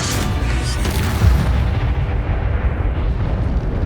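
A deep, rumbling blast from the Bombarda spell in the video game Hogwarts Legacy, with heavy low booming that rolls on and fades slowly.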